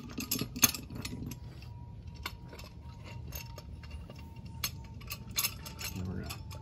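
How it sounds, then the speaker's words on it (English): A C-clamp is opened and threaded down onto a brake caliper of a Ford E150 van during front brake pad replacement, giving faint metallic clicks and ticks over a low hum. "Open up our C-clamp a little bit more."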